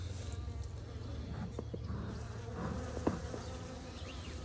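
Honeybees buzz steadily around a hive being set up after smoking, a dense, continuous drone with a few brief louder passes of individual bees close by.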